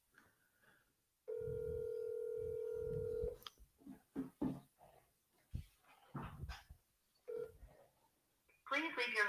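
A telephone call rings through with a long steady tone, followed by short bursts of beeps and clicks from the line, while a dog barks nearby and a voice talks intermittently.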